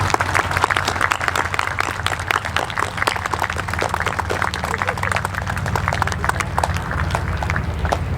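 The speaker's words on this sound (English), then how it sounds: "give them a round of applause" Middle school achievement ceremony audience applauding their families, a dense, steady wash of many hands clapping throughout, with a few voices mixed in.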